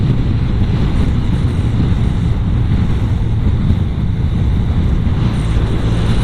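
Heavy wind roar buffets the microphone on a BMW R100RS motorcycle cruising at about 110 km/h and 4,250 RPM, a dense, constant rush of low rumble with no speech over it.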